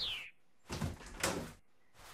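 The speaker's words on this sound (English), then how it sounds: "Let's go and open the door." A door opens in a video game with a short creak, then a burst of clatter and a thud, and a brief knock closes the sequence, all fairly close and quiet.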